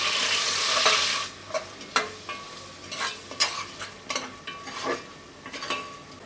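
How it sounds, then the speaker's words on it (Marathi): Onion frying with whole spices in a hot pan for a wedding-style mutton dish, a bright hiss at first, then repeated scraping stirs and clinks over a steady sizzle, close and clear, without voices. "आता खडा मसाला परतून झाल्याच्या नंतर यामध्ये आपण कांदा घालूया आणि हा कांदा आहे ना तो सोनेरी रंगावर परतून घ्यायचा आहे"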